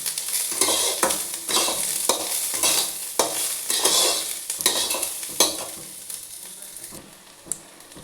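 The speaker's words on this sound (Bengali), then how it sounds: "পেঁয়াজটা এবারে বেশ লালচে করে ভাজবো।" Onions with red and green raw chilies frying and sizzling in a pan for a chicken korma, a spoon stirring and scraping in steady repeated strokes, close and fairly loud, no voices.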